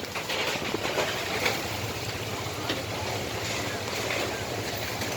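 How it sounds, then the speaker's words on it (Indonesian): A whirlwind with strong wind and heavy rain near the old Depok railway station, a dense, continuous roaring wash with no breaks, steady and close throughout. "Depok guys, sama angin beliung."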